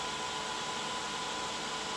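A 3D printer running nearby gives off a steady broadband whoosh of fan noise with a faint tonal hum, constant and unbroken throughout.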